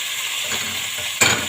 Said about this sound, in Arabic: وبعد كده ننزل بالبصلة بتاعتنا تتشوح